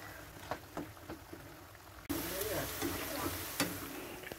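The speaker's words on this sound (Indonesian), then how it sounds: "Kentangnya akan kita goreng hingga berubah warna menjadi golden brown" Potato pieces frying in oil in a pan, quiet stirring scrapes at first, then a loud continuous sizzle that jumps up midway and holds steady with occasional clatter.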